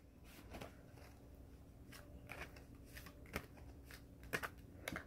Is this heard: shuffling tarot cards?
yes